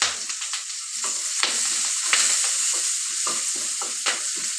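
Onions and green chillies fry in hot oil in a pan, a bright continuous sizzle broken by repeated scraping stir strokes, close and fairly loud, for a poori kurma.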